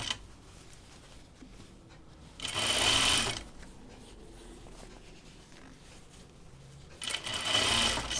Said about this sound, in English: I'm just going to sew this underarm seam